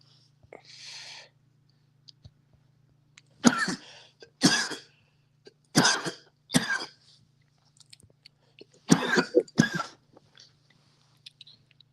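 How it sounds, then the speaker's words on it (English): A person coughs in several separate, sharp bursts, some coming in quick pairs, spread out across a quiet background with a low hum. "My bad if y'all hearing me cough in the background."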